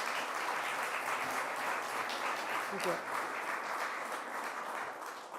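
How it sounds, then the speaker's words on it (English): An audience at a New York governor's youth mental health announcement gives a sustained round of applause, a soft, continuous wash of many hands, while a voice briefly speaks over it. "Let's give them a round of applause."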